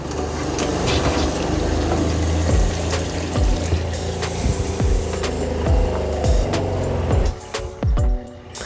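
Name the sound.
RV water pump repressurizing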